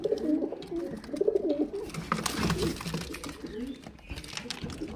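Highflyer pigeons coo repeatedly at a market stall in a low, rolling murmur, with a steady bustle of other birds and faint background noise throughout.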